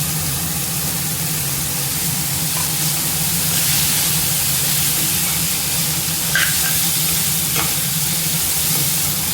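Small pieces of beetroot sauté in a pan with tomato, onion, ginger and garlic, giving off a loud, continuous sizzle with occasional stirring scrapes and no talk.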